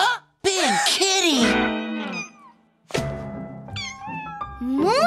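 Cartoon kittens, big playful kitties batting balls of wool, let out a string of loud, drawn-out meows, one after another with a brief gap between calls.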